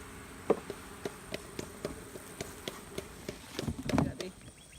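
Honey bees buzz around a backyard hive, with short close passes flicking by amid a steady faint drone and a louder burst near the end; a few people talk quietly at the edge of the scene.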